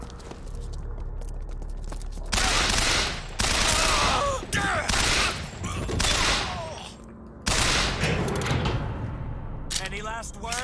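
Video game gunfire, repeated loud bursts of shots and clattering mechanisms in several blocks separated by brief gaps, close and dense throughout, with voices calling out during the action.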